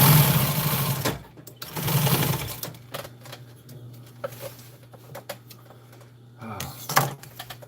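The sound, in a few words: sewing machine sewing the bottom of a bag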